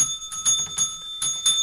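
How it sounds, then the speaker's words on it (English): Jingle bells ring in several shaken bursts, bright and fairly close, marking a Santa Claus arrival during a holiday home improvement show, with no talking over them. "Jingle bells there, Bill."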